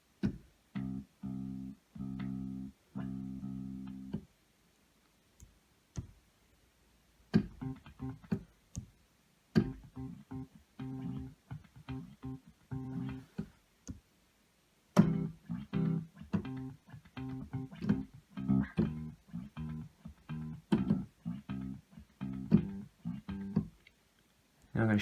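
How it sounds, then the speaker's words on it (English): Yamaha Genos mega voice bass tones run through an arpeggiator, giving quick repeating plucked notes in bursts of a few seconds. The bursts are separated by short silences, and the notes are clear and moderately quiet with no talking. "even the bass guitar sounds, even the electric guitar sounds can be played live with all sorts of different arpeggiators"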